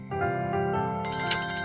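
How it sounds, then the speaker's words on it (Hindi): A phone ringtone for an incoming video call plays loudly and alone, a steady repeating electronic melody that shifts to a brighter, higher phrase partway through. "कॉल आ रहा है"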